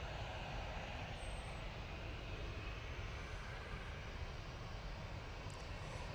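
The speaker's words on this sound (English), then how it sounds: "A320 in Neo. It's about to touch down." A Pegasus Airbus A320neo airliner landing at Manchester Airport makes a steady, broad engine roar and rushing air at moderate distance, unbroken throughout and heard without any talk.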